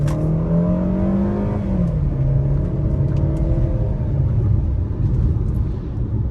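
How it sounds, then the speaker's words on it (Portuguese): A 2020 Jeep Renegade Longitude 1.8 accelerates from inside the cabin, engine note climbing then dropping at a gear change before rising again under a steady road rumble. "vamos dar uma pisadinha para ver se o carro responde bem"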